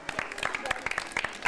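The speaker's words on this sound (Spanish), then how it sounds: "A ver, un fuerte aplauso." Brief applause from the audience at a school ceremony, a quick burst of overlapping claps with voices mixed in, fairly close and moderately loud.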